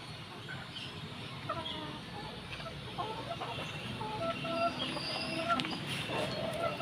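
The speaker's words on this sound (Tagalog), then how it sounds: "ang pagpapakain ng native na manok" Native chickens cluck and chirp in scattered bursts while being fed, against a busy outdoor background, with faint voices murmuring throughout.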